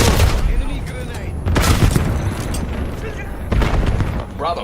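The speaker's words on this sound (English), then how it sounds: "Enemy grenade." A grenade blast in a multiplayer shooter game lands as heavy booms in a chaotic battle, with bursts of gunfire around them. Two loud surges stand out, with continuous combat noise in between.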